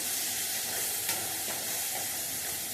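Large onions and tomatoes sautéing in a pan give a steady, dense sizzling hiss close by, with faint stirring scrapes and no talking.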